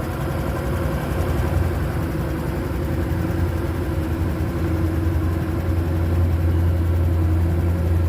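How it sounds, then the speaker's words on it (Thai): A 2023 Honda Wave 110i motorcycle engine idles steadily with a low, even hum and fine mechanical clatter, close by and unchanging for the whole stretch. "นี้คือติดเครื่องแล้วนะครับผมนะ เครื่องเงียบมากนะครับ"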